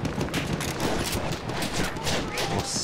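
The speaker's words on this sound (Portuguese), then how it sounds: "Nossa, olha os tiros passando aqui." Rapid gunfire from the Battlefield 1 video game during a flag-holding fight, dense volleys and bursts crackling continuously and loudly without a break, with heavy thuds underneath.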